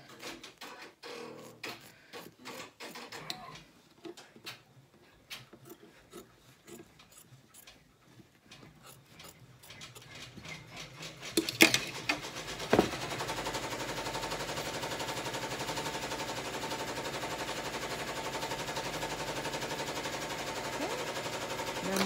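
An embroidery machine stitching a tack-down line on an Easter egg placemat, starting as sparse rapid mechanical ticks and then settling into a steady, dense, louder stitching rattle in the second half.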